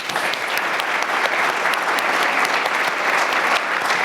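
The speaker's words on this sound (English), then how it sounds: "Can we have a round of applause for our panelists?" An audience at a community health breakfast panel gives the panelists a round of applause, loud dense clapping from many hands held steady throughout, close and without speech.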